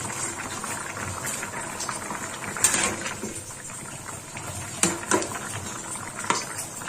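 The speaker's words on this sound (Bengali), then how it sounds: "খুব ভালোভাবে ঝোল ফুটে উঠেছে" Thin Bengali egg curry gravy with potatoes at a rolling boil in a pot, a steady bubbling hiss broken by a few sharper pops and clinks, close and moderately loud with no talk.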